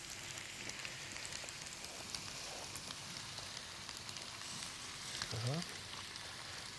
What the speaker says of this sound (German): 10, 12 Minuten muss das jetzt köcheln, ist ja klar.